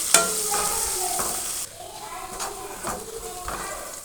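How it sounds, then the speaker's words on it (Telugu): Green chillies frying in a pan, a steady close sizzle with a few clinks of stirring and intermittent speech over it. "పచ్చిమిర్చి వేసేస్తున్నాను నేను. వేసుకొని ఒక 2 మినిట్స్ ఫ్రై అయిన తర్వాత మిగతా వెజ్జెస్ అన్నీ వేసేసుకుందాము."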